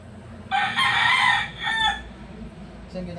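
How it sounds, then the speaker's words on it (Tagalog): A rooster crows loudly once, followed by a few short clucks, close by with a low background hum. "Boss mo, nagwawala manok!"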